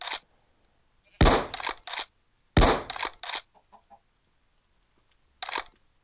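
Sharp, loud video game gunshots crack out in short bursts, a couple of quick volleys with brief silences between, ending with one more shot.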